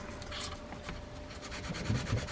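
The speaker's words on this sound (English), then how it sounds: "I'm just using steel wool here" Steel wool scrubs a drag washer from a Penn Senator 1/0 saltwater fishing reel, giving a close, continuous, soft rasping rub with short repeated strokes.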